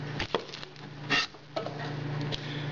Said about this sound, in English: let's start chopping the onions